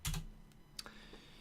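Typing on a computer keyboard, a few quick, close, quiet clicks in an uneven rhythm, a cluster at the start followed by scattered single keystrokes.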